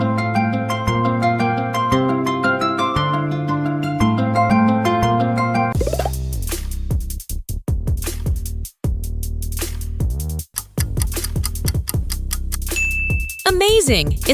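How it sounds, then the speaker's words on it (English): An LG smartphone ringtone: a layered electronic melody of sustained harmonic tones that shifts into a punchier, beat-driven passage with sharp chimes, loud and continuous throughout. "It's LG."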